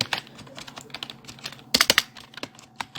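Fast keystrokes clatter on a computer keyboard, mostly soft with a louder burst of clicks midway, close and alone without talk, while a title is typed into a WordPress widget.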